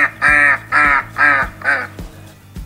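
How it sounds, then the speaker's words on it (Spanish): Four loud, nasal quacks in a steady rhythm, close up, played by a Google Home smart speaker, followed by a couple of soft knocks. "Este es el sonido que hacen los patos."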